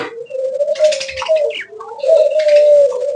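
Pigeons coo loudly and close by at a bird shop, with long throaty rolling calls, while fainter chirps and twitters from other birds sound behind them.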